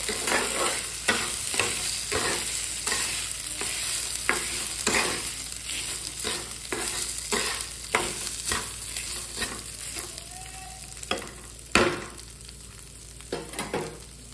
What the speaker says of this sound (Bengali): চালটা আমি দিয়েছি, এবার এটা ভালো করে ম্যাশ করতে হবে।